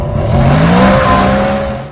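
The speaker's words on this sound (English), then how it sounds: "power gains, and the all-important engine roar" A loud sports car engine roars and revs steadily, its deep tone rising in pitch before easing off slightly at the end.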